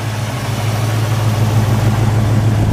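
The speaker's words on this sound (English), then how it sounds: "it's a nice, smooth running little motor. Runs cool with that aluminum radiator." A 1964 Ford Falcon Futura two-door hardtop with an aluminum radiator and dual Flowmaster exhaust idles close by, a smooth, steady low rumble with no speech.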